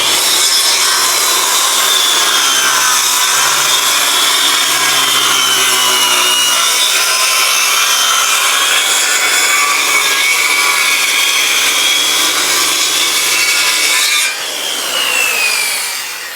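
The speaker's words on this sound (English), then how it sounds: "we're gonna make the second cut for our shadow box piece right now" A hand saw cuts steadily into a timber frame piece for a shadow box joint, strokes loud and close, running continuously before stopping near the end.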